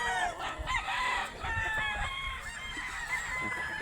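Young roosters (stags) of Butcher, Tornado and Brown Red breeds crowing repeatedly, several overlapping calls close by amid a noisy farmyard background.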